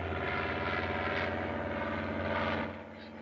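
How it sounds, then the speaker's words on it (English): A propeller airplane drones steadily overhead for several seconds, a loud, thick engine hum that fades slightly at the end, as heard in a 1938 film. "That won't hurt you. It's only an airplane."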